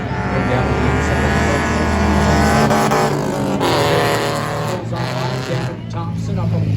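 Enduro race cars roar through turns one and two on an oval track, engines loud and continuous with revving and passing cars, a commentator talking over the racing.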